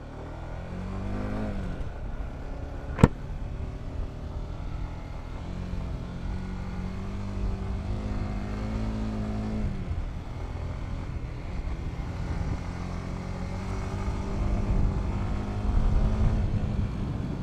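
A sports bike on its first ride after five months off following an accident hums steadily, with engine pitch rising and settling through gear changes and a single sharp click early on, heard continuously with no talk.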